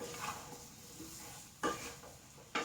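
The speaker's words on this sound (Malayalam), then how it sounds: "ഇട്ട് കൊടുത്ത് നന്നായി ഒന്നും കൂടെ ഇളക്കി കൊടുക്കട്ടെ." Chopped rose apple for pickle is stirred in a pan, with low scraping and shuffling under a faint sizzle, broken by two sharp spoon knocks against the pan, quiet and close with no speech.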